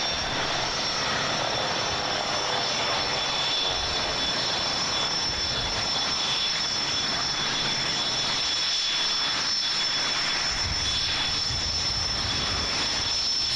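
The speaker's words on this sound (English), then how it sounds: "So a Douglas A-26 Invader." A Douglas A-26 Invader's engines drone steadily and loudly throughout, a sustained broadband roar with a faint high whine, unbroken by speech.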